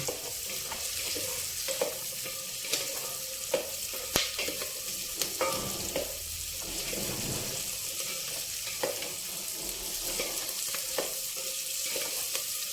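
Carrots and drumsticks for a Telugu-style sambar crackle and sizzle steadily in a pan, with a utensil stirring and scraping through the vegetables in irregular bursts, close and moderately loud with no talking.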